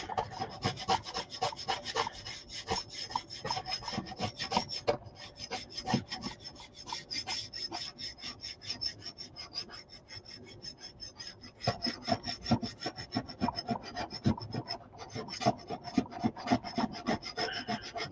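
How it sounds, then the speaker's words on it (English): A scraper rubs back and forth during the finishing of a needle-felted mouse, producing a long, rapid, rhythmic rasping of close, even strokes that carries on throughout with only brief pauses. "Let's scrape that clean."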